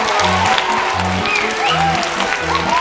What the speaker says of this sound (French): On peut en profiter pour applaudir les bénévoles